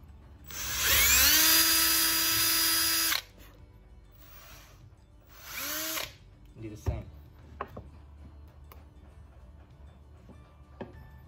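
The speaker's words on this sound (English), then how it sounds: "I'm gonna have to sand this out again." A power sander works on an antler mount, spinning up to a high, whining buzz in one long burst and then a shorter one. Clatters and knocks from handling the piece follow.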